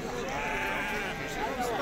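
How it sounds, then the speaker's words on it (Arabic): Sheep bleat amid the noise of a livestock market, with vendors talking loudly over the animals throughout. "خروف البلدين مليح تبارك الله"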